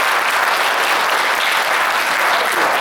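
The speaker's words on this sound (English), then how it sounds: "I think you got to give him a round of applause for" A church congregation applauds in a dense, continuous burst of clapping, loud and even throughout, with no voices on top.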